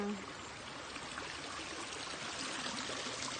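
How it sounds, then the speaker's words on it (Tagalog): Water flows steadily in a continuous rushing wash, like a stream running nearby, with no pauses. "ito ang tubig ito dumadaloy"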